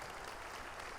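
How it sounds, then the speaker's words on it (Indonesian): Applause from an audience at an Islamic religious gathering, a steady, dense wash of clapping that fills the whole second at even loudness with no voices standing out. "Tepuk tangan."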